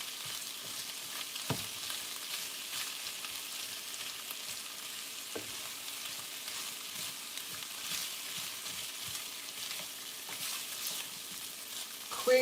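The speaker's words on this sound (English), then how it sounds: "We just want to get it sauteed here." Cabbage with sausage and turkey bacon sautés in a pan with a steady, fairly soft sizzle, broken by occasional stirring scrapes and clicks.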